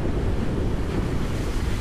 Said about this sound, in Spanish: Un aguacero torrencial.